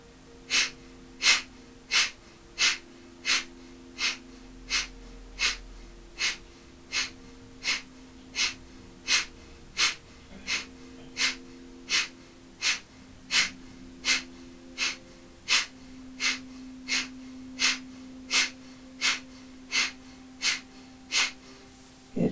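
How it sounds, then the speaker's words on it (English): Forceful pumping breathwork through the nose, a long steady series of about thirty sharp explosive exhales at roughly one per second, each followed by a quiet passive inhale, close and rhythmic with a faint tonal hum beneath. "reminding yourself to pump, and exhales being explosive and the inhales being passive"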